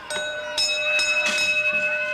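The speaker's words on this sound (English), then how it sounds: "Ring the bell." Bell rung repeatedly at ringside to signal the end of a studio wrestling match in Detroit, several bright ringing strikes with sustained tones, fairly loud and close.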